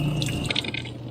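Shower water runs inside an ambulance expedition vehicle with a thermostatic mixing valve, giving a close, steady spatter with scattered drips and no talking.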